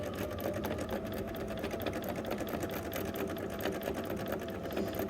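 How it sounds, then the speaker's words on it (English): A sewing machine runs continuously at a fast, even pace while doing free motion applique stitching, its steady rapid needle chatter close and loud with no talking. "Stitch it down."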